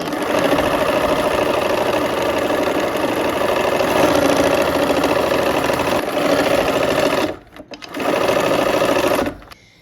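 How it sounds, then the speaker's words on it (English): A sewing machine runs in a long continuous loud hum as it stitches quilt fabric rectangles together, stopping briefly near the end before restarting. "we'll sew these rectangles to either side of that brown"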